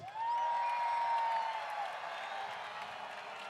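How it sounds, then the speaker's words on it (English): A crowd at a soccer stadium in Sacramento, at a USL Pro match, cheers and claps from a distance, with a whistling tone rising over the roar before it settles into steady applause. "Sacramento, let's make some noise!"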